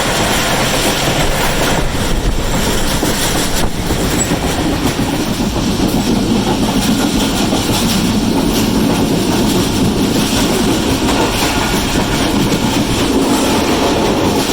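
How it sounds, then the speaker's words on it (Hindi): The Pak Business Express, hauled by a ZCU30 locomotive, rushes past at speed with a loud, sustained rumble and rhythmic wheel clatter on the rails. "अभी 33 है पाक बिजनेस एक्सप्रेस, जो कि काफ़ी अच्छी स्पीड में आ रही है ZCU30 के साथ"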